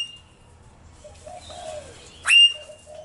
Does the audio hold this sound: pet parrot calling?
yes